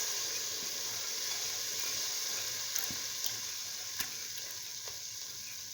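Lentil pieces fry in a pan with a steady, fine sizzle and hiss. A few faint clicks of stirring sound through it, and no one talks.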